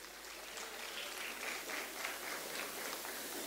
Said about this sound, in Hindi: तो जोरदार तालियां हो जाए इस अमेजिंग परफॉर्मेंस के लिए